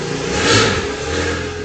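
A car engine revs outside, swelling to a loud peak midway then easing into a lower drone, heard from a distance with no talking.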